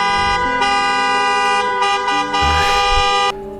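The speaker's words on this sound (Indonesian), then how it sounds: "suara klakson tersebut semakin bertambah keras, diiringi tempo yang sangat cepat" A loud hearse horn blares nearby, sounding almost without pause in quick, repeated blasts.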